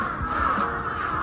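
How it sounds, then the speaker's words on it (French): Crows cawing on a hillside path in Kyoto, loud harsh calls overlapping in a short burst, close and dominant over faint outdoor background. "toujours avec les corbeaux qui font un sacré bruit"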